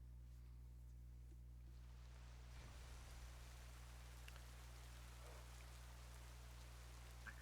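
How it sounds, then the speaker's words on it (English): Rain falls in the video game Pokemon Violet as a soft, steady, faint hiss that carries through the whole stretch with no other clear sounds. "Oh, it was raining."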